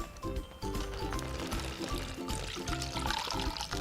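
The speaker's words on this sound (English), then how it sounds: "get one of your bags, your smaller bags, and then we're going to pour the beverage into" A drink being poured into a small plastic bag for a homemade slushy, a steady splashing, gurgling stream close up that runs for several seconds.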